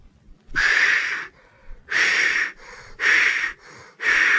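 A voice imitates a steam engine puffing away, giving four loud breathy chuffs about a second apart, with softer hissing breaths between them.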